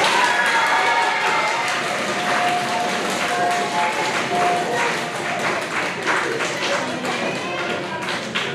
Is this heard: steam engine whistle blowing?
no